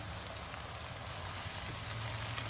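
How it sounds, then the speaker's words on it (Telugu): Sliced onions frying in a pan for a gongura chana dal curry, a steady dense sizzle and crackle held close and even throughout, with no voices. "ఉల్లిపాయలు వేగుతున్నాయి కదా"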